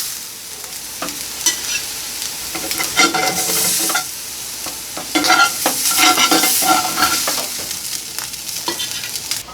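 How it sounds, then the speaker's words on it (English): Blackened catfish lifted from a hot skillet, with steady frying sizzle and crackle running throughout, punctuated by scraping and clattering utensil strokes against the pan, close and fairly loud, with no talking. "I'm going to go ahead and take this catfish out of the skillet"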